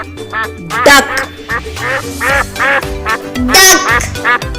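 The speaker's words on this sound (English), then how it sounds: "Duck." A farm duck quacks repeatedly in quick, nasal bursts, close and loud, forming a busy run of separate quacks with no speech over them.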